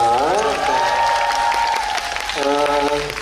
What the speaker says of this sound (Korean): 지금까지 멋진 시연해주신 두 분께 박수 한번 부탁드리겠습니다